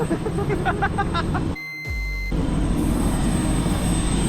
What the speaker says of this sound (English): We're going to see if we can see a helicopter land.